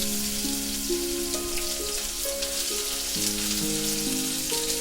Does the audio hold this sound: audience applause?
no